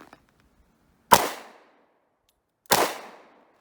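Two sharp, loud pistol shots from a Romanian TTC Tokarev in 7.62x25mm at an outdoor range, spaced about a second and a half apart, each a crisp crack with a short fading tail, silence between.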